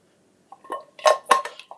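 An egg shaker with a metal top rattles and clinks in a few quick bursts as eggs are shaken inside it to crack their shells, close and fairly loud, with no talking.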